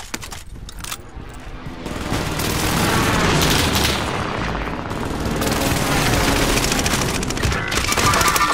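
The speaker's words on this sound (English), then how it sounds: "Allied precision airstrike incoming." Dense, sustained barrage of explosions and rapid gunfire from a Fortnite airstrike, loud and continuous with booming impacts layered over constant crackle throughout.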